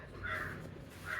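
A crow caws twice, a harsh nearby call at the start and again near the end of a brief moment, with no talking.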